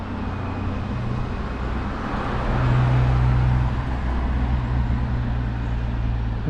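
A V12 motorcycle rolls through a village high street in Exminster, Devon, its steady engine drone swelling briefly mid-ride over faint road noise.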